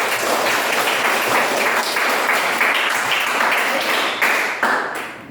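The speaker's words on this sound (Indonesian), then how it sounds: "Tepuk tangan sekali lagi untuk" Classroom students clap together after group presentations in a science lesson, a loud, dense burst of applause that carries on steadily, then tapers off into a few final claps.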